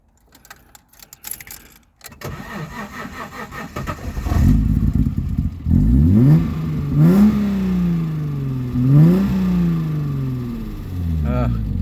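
Alfa Romeo GTV6 with its Busso V6 engine cranks and starts, then revs up and down in several loud, close blips that settle into a steady idle.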